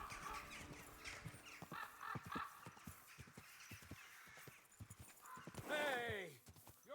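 Rapid video game horse hoofbeats clip-clop in a quick rhythm over a background murmur of voices, ending with a horse's loud whinny, in Kingdom Come: Deliverance II.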